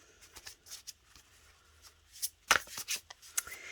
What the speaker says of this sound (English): the third deck I will be using today is using the Crystal Wisdom Healing Oracle by Judy Hall